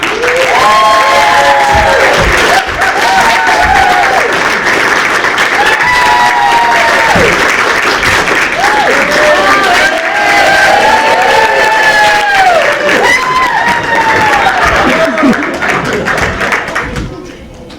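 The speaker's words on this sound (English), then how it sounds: "Please give a hearty round of applause for Dr. Watson, Jack Ryan." A large audience claps steadily and loudly for several seconds, a dense wash of applause with scattered cheers and whoops rising through it.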